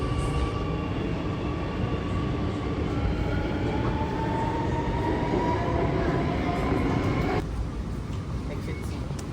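A train pulls into a station platform in Singapore, a loud, steady rumble and rising hum of the carriages close by that cuts off abruptly near the end.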